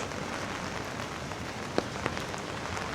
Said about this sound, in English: even if it passes by, then you still will have rain and occasionally wind